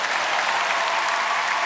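A comedy-festival audience applauds a volunteer at Liège with dense, steady clapping that fills the hall, loud and close throughout.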